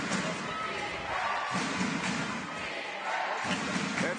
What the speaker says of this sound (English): German crowd getting fired up here in the second half.